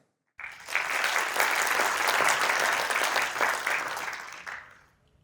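An audience claps to welcome speakers to the stage at a university research talk on men's health. Dense, steady applause starts abruptly, holds for about four seconds and then fades out.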